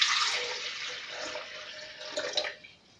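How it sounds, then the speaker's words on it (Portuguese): Water pours steadily into a blender jar for soursop juice, a continuous splashing rush that tapers off and stops near the end, close and moderately quiet with no talking. "Agora eu vou bater aqui no liquidificador. Por isso, vou colocar essa quantidade aqui de água."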